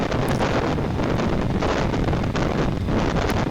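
Steady, loud wind buffeting the microphone outdoors at 48 degrees, a continuous rough roar with low rumbling gusts and no voices.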